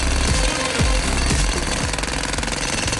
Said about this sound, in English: Should we use the jackhammer?